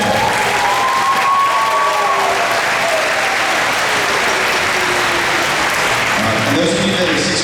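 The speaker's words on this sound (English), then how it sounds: "Round of applause for beginning band." Loud, sustained applause from a school concert audience greets a beginning band, a dense continuous clatter of clapping with a few faint voices and whistles mixed in throughout.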